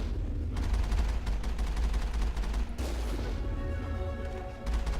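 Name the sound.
rocket flying past in Mass Effect video game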